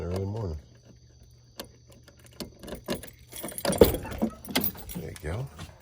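Scattered metallic clicks and a fuller jingle of keys being fumbled for in the early morning, close and intermittent, over a steady low engine hum with a short voice at the start.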